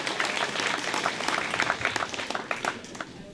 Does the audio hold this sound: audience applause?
yes